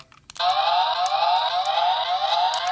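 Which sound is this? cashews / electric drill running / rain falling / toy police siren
toy police siren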